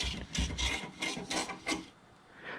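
Close, dry rasping strokes as a T-shirt printing screen's edge is trimmed, about six rhythmic scraping passes in quick succession before a brief quiet tail.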